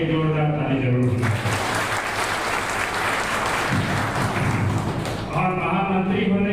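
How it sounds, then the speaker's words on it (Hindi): Audience applause at a gathering of PDS ration dealers, a burst of clapping lasting about four seconds, with speech heard before and after. "इनके लिए एक जोरदार ताली जरूर होगी"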